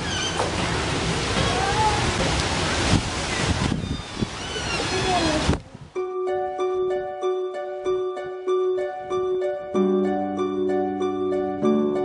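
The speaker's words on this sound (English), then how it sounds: "Running in the wind some more" Strong wind roars across an open outdoor spot where people are running, a loud broadband rush with gusts for about five seconds before it cuts away to tonal music.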